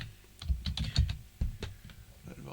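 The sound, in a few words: typing on a PS2 computer keyboard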